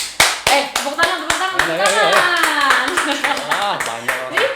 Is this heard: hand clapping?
yes